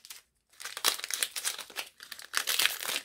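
A Pokémon card booster pack wrapper with a glued tab being pulled open, producing close, loud crinkling and tearing of the foil packaging in several bursts after a brief silence.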